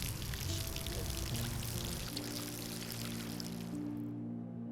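Liquid poured as a libation in a steady splashing stream for about two seconds, then a quieter trickle that tapers off into a faint hum.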